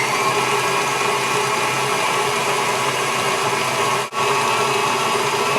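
A steady, loud whir of an electric mixer beating egg with extracts for alfajores batter, running continuously with one brief dip near the end and no talking.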